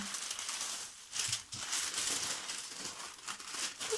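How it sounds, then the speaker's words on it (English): Continuous crinkling and rustling of a thin paper sewing pattern being handled up close, with a few sharper crackles and no voices. "lots of rustling noises"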